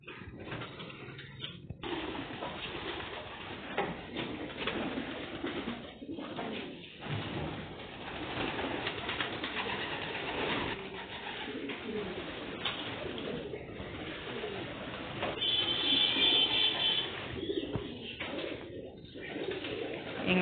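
Pigeons cooing inside a somewhat dirty home pigeon cage, a steady soft murmur of coos running throughout at moderate distance, with a brief sliding or knocking noise and faint background voices.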